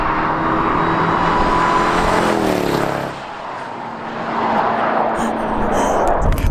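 A car, likely a Range Rover, pulls away and recedes into the distance with a steady engine roar, its pitch sweeping down as it fades out midway before broadband engine and road noise return.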